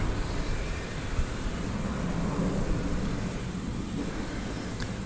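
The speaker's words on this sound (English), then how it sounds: "I see an aeroplane taking off here." A broad, steady roar of jet engines from an airplane taking off at an airport at night rumbles continuously at a moderate distance, with wind-like noise and no speech.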